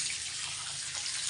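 Water pours out of a pig's drinking container on a small pig farm, a steady, close, fairly loud broadband splashing rush that continues without a break and has no talk over it.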